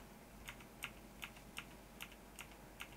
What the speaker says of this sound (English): let's click the escape button.